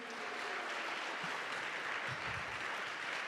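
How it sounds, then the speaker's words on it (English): Audience applauds a senator at a Women's History Month celebration, a steady, fairly distant wash of clapping that holds evenly throughout. "Can we give her another round of applause, please?"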